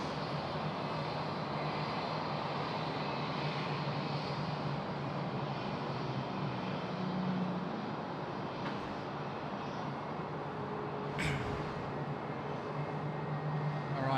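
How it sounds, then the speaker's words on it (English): Jetstar airliner moving at Sydney Airport, a steady broadband engine rumble and roar that holds evenly throughout, with a brief sharper burst near the end. "So that Jetstar's now moving."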